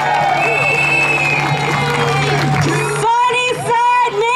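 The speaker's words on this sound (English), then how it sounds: "Let's give a big round of applause to Julie" A street crowd at the St. Pat's For All parade applauds and cheers for council member Julie Won, loud, with whoops and shouts over outdoor noise and voices.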